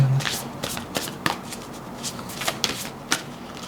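A deck of tarot cards being shuffled by hand, with soft riffling, sliding and papery taps in an irregular rhythm, close and fairly quiet, without talk.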